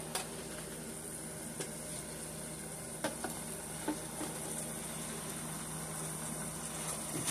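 Paprika-laced apricot and honey glaze for salmon sizzling steadily in a pan, a dense constant fry hiss with a few light spoon taps and stirring knocks, close and alone.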